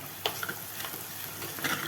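Onion and garlic sauté in a pan for a prawn curry, giving a faint, steady sizzle with a few soft stirring scrapes and clinks.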